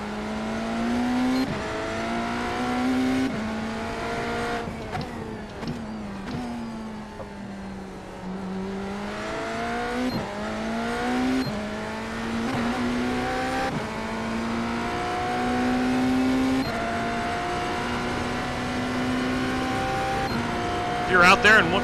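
A NASCAR race car in a racing video game's hosted online session repeatedly climbs through the revs and shifts gears, the engine tone rising and dropping in a steady cycle at moderate volume, with a voice talking over it.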